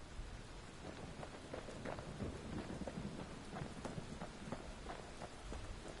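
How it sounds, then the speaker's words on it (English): Video game rain in Bastion pours down steadily with scattered droplet hits and a low rumble underneath, continuous and fairly distant, with no voices. "Oh shit, it's raining."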